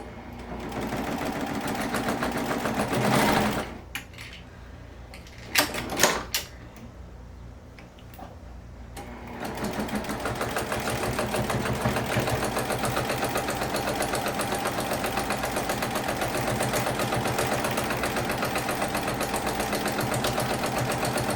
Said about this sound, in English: we're going to go ahead and top stitch just around the top edge